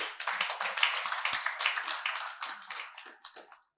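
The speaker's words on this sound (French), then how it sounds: "Acclamez ce couple" A church congregation applauding a couple, a burst of dense hand clapping with some uneven individual claps that thins out toward the end.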